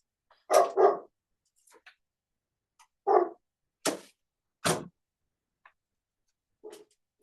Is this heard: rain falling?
no